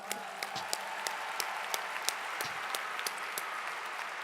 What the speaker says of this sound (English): So let's give all of these extraordinarily hardworking, committed students another round of applause.